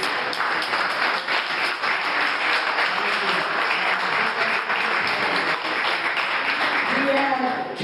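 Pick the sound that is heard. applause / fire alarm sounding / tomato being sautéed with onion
applause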